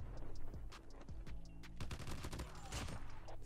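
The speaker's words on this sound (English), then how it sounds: "I'm getting shot." Rapid automatic gunfire from Call of Duty Mobile, a dense game firefight with bursts of rifle shots and overlapping cracks sounding loud and close throughout, no talking.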